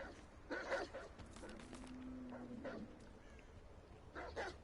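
A pack of demon dogs in a video game growls and yelps in scattered bursts, faint and fairly distant, with a soft steady hum underneath.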